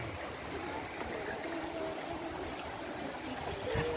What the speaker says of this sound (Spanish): este es un río tan bonito que siempre sabemos venir por aquí